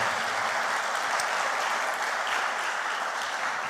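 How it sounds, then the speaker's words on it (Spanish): A church congregation at a Spanish-language worship service applauds in a continuous, even wash of many hands clapping, filling the room at a steady moderate level. "Dele otro aplauso al Señor, porque Él merece toda la gloria,"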